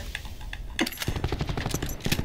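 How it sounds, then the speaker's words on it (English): Shotgun blasts from the SG12 with a flashlight mod in Black Ops 4, a dense burst of sharp, loud shots fired in quick succession amid busy in-game combat noise. "this flashlight shotgun, it's fun, bro"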